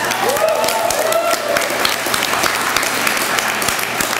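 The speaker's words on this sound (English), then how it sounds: "So let's give everyone a round of applause for that." An audience at the Yonkers Arts Weekend gives a round of applause, dense and steady clapping from many hands that fills the room, loud and sustained, with a faint whistle or cheer near the start.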